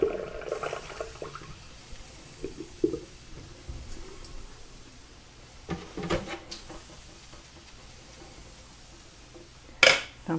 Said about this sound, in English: Pour it through a sieve.